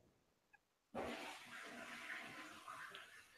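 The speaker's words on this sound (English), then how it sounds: "We just heard the toilet flush." A toilet flushes with a sudden loud rush of water that starts after a short quiet moment and carries on as a steady, close gurgling flow.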